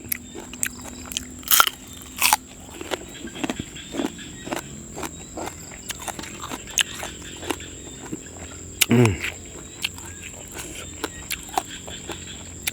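Crunchy food chewed close up outdoors beside a rice field, with rapid, uneven bites and crackling crunches repeating throughout and soft background rustling.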